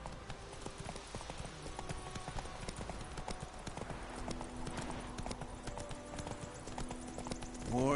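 Roach the horse from Witcher 3 gallops with steady clip-clop hoofbeats throughout, close and continuous, over ambient game sound.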